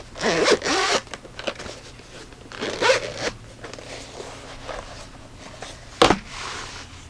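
A zipper on a cloth flashlight carrying case is pulled open in several close, scratchy bursts, with pauses between and a sharp final zip near the end, nothing else audible.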